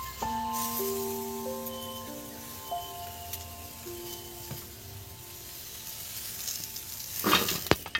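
Potato and pointed gourd mash cooks in a pan with a low, soft sizzle under a quiet melodic tone, ending in a brief louder clatter.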